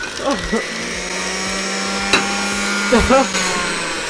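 A kitchen blender switched on to blend a hamburger into juice, giving a steady motor whine and mechanical churning that run throughout, with short voiced exclamations over it.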